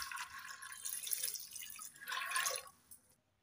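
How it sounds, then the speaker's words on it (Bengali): Water poured into a pan for boiling peas for a Bengali pea and chicken keema curry, a continuous splashing, trickling stream close by that swells midway and then tapers off into quiet. "দিয়ে দিচ্ছি পরিমাণ মতো জল।"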